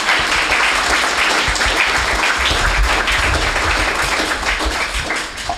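A large audience at a 10th anniversary celebration gives a loud, sustained round of applause, dense clapping holding steady for several seconds before easing slightly at the end.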